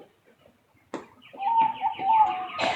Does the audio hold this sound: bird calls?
yes